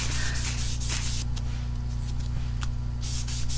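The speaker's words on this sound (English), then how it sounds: "when you run your brush across" A paintbrush drawn across paper while painting watercolour-style rainbow colours, giving soft, close rubbing swishes in a few repeated strokes over a steady low background hum, with no talking.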